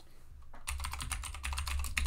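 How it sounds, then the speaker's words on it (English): A computer keyboard is typed on briskly to enter a password, producing a dense run of close, crisp key clicks after a brief quiet moment, with no talking. "Put in our password."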